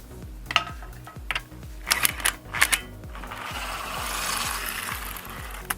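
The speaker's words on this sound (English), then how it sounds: "Next we're going to remove the lug nuts, 19mm socket there" A ratchet wrench with a 19mm socket loosens the lug nuts on a Ford Fiesta Mk7 ST, a rapid, regular clicking of the pawl close by, with a few louder metallic knocks and a steadier mechanical whir toward the end.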